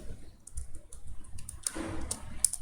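Quiet bursts of typing on a computer keyboard as C++ code is entered, soft irregular key clicks close by with a few sharper taps near the end.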